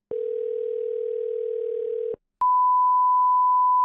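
Telephone line on a call to a coin shop: a steady dial tone drones for about two seconds, cuts off, then a higher continuous ringback-style tone follows, clear and alone with no voices.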